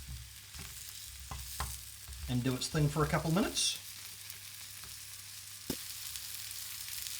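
Sausage sizzles steadily in a frying pan as oils render out, a continuous close crackle and hiss with a few clinks, while a person speaks briefly over it partway through.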